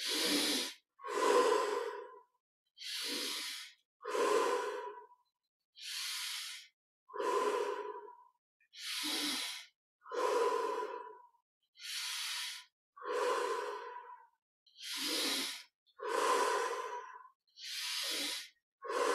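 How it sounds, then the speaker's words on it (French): Deep, slow breathing during guided meditation with an open-chest posture: a long, steady series of loud, close inhales and exhales, each breath separated by short silent gaps, with no talking. "on prend 20 respirations profondes"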